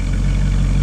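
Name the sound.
1958 Pontiac 348 Chevy tri-power engine exhaust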